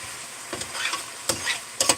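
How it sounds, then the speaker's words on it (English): Chicken sizzles and crackles as it fries in hot oil, with a few sharper pops standing out in short bursts against a quiet background. "I'm frying this chicken"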